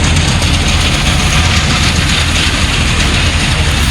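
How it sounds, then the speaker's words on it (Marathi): A farm tractor engine running at a sugarcane field: a loud, close, steady low rumble that drones without pause. "तर हे आमचं ट्रॅक्टर पसारा घेऊन आलो सकाळीच."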